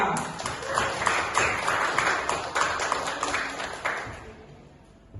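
A seminar audience in a room claps in a brief round of applause, a lively patter of hands that holds steady and then tapers off toward silence at the end.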